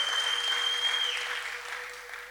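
A church congregation at a worship service claps in a steady wash that slowly fades toward the end, with a sustained tone ringing over it, and no speech.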